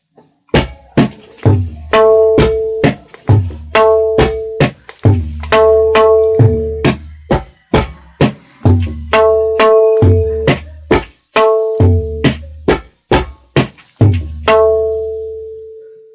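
Tabla playing a qaida, a fast stream of crisp strokes with ringing pitched treble tones over deep bass resonances, in steady repeating phrases, close and loud, with no talking.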